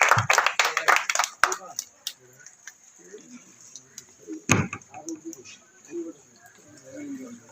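Audience clapping at a child's second birthday celebration, a quick burst of close claps at the start, then a few scattered claps under a speaking voice.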